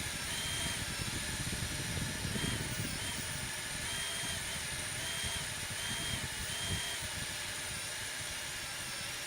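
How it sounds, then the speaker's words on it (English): A DeWalt power drill mixing glass, whirring continuously at steady speed, a loud sustained motor whine with rough grinding underneath, running for several seconds without a break. "Then we're going to grab our handy dandy drill."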